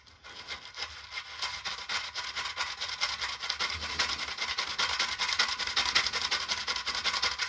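A part is scrubbed clean with water and cleaner, a rapid, steady back-and-forth rasping rub that grows slightly louder and continues without pause, close up and with no talk.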